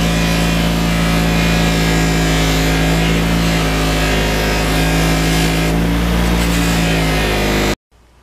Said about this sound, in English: there's just what about 1 minute by the buffing wheel will do